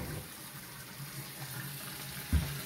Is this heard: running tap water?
yes